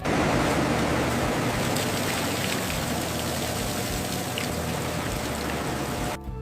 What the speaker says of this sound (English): they pass through this waterfall of ice water